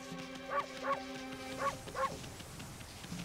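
A wolf in the video game Okami gives four short barks with a clear yip-like tone, evenly spaced in two pairs and close to the listener, over quiet game background sound.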